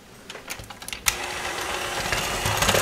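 An electric hand mixer whirs steadily through chocolate cake batter as flour, baking powder and salt are worked in, starting after a few soft clinks and rising to a continuous close, fairly loud motor drone.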